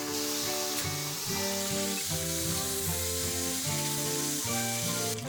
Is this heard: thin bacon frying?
yes